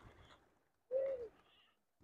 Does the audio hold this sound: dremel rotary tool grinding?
no